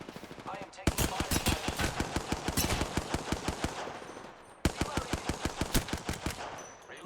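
Rapid automatic gunfire in the Apex Legends video game comes in two sustained bursts of sharp, evenly spaced shots, loud and close, with a short gap between the bursts.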